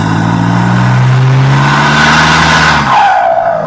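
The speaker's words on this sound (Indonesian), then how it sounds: "Mobil pick-up berjalan dengan kecepatan sedang" A pick-up truck's engine drones loud and steady, with a rising whine and a sweeping pitch toward the end, as it drives at moderate speed along a rocky forest road in the evening.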